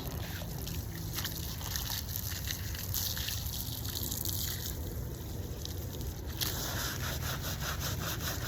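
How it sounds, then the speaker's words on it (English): A soft brush scrubs a headstone coated in cleaning solution, making a continuous wet, rhythmic rasping and swishing that stays close and steady. "Work that cleaning solution into the stone."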